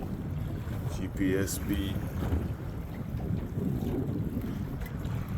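Wind buffets the microphone steadily over open water on the Chesapeake Bay near Breezy Point, Maryland, while a Native Titan 10.5 kayak drifts. The roar is continuous and moderately loud, and a brief spoken remark is heard near the start.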